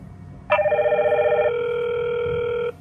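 The Hikvision DS-KIS702Y-P 2-wire IP video intercom rings with a clear electronic tone, first warbling and then holding steady for about two seconds before cutting off, loud and close with no talk over it.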